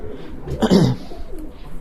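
Pigeons coo near their rooftop coop, one clear, close, rolling call rising briefly from a quiet outdoor background, with softer cooing trailing after and no talking.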